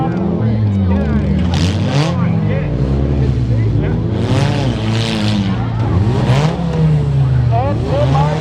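Derby car engines at a front-wheel-drive demolition derby at the Forest Fair, a 500 car among them, run loud and close, revving and rising and falling in pitch over a continuous roar with a commentator talking over it.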